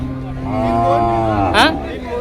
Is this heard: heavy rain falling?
no